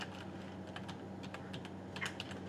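A computer keyboard set to the wrong layout gets a soft, close run of irregular keystrokes over a steady low room hum, with no voices.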